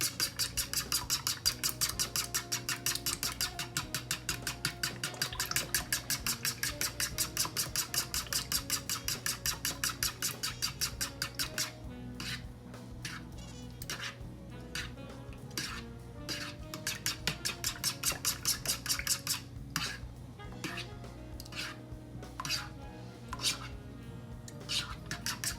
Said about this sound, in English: You can use a fork or a whisk, either one.